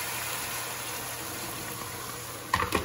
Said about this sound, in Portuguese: eu vou colocar um pouquinho de água fervendo.